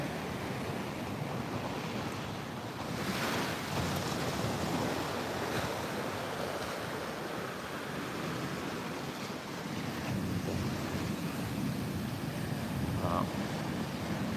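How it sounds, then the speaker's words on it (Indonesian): Steady wash of surf rolling onto Muaro Bayang beach in the morning, a continuous broad roar of waves with some wind noise, close and unbroken throughout with no talk. "Ini suasana pantainya."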